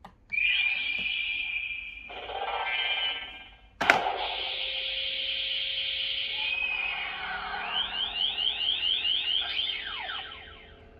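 A Bandai CSM Typhoon toy belt plays its electronic transformation sound effect: a long synthesized whirring tone, a sharp hit near the middle, then rising and sweeping chirps that pulse toward the end, loud and close with no voices.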